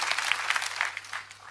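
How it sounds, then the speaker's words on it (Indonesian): A church congregation applauding during a worship service, with brief, dense clapping close by and a faint low hum underneath. "Beri tepuk tangan yang meriah buat Tuhan."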